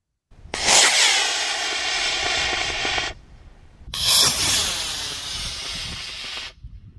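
A model rocket lifts off on an Aerotech 29/40-120 reload motor with a loud, rushing roar lasting about three seconds. After a short gap a second, similar whooshing burn follows and then cuts off abruptly.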